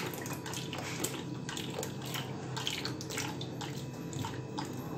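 Cold water from the fridge poured and mixed into churned milk while making butter for ghee: a steady, close splashing and sloshing of liquid with no talking.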